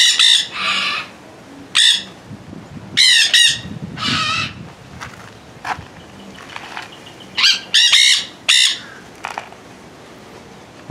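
Loud, chattering calls from many seabirds at a coastal seabird sanctuary in Sarasota, Florida, come in repeated harsh bursts with short quiet gaps between them, close by, with no talking.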